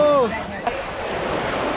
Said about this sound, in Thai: คลื่นมันแรงมากตอนนี้เนี่ย